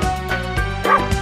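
Dog barks set into a German children's farm song, a few bouncy woofs over a musical backing.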